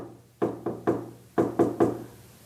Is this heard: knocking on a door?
yes